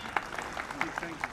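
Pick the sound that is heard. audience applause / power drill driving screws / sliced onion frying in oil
audience applause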